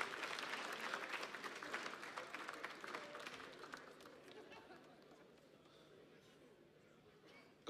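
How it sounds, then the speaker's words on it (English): Crowd applause and cheering after a band's set at the Baybeats music festival in 2022. It starts full and lively, then thins out and fades over several seconds with scattered claps. "A big round of applause for them."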